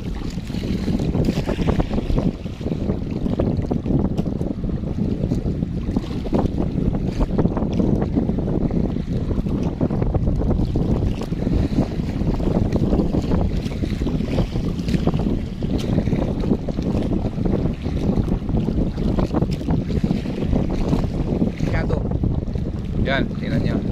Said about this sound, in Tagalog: Maalon at palakas ang hangin.